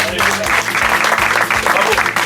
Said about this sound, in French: Moi, je vous applaudis.